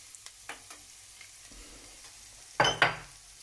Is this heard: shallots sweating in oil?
yes